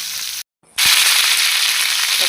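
Chopped ivy gourd hits hot oil with dried chillies and curry leaves, a brief gap followed by a sudden loud, close, sustained sizzle that continues steadily.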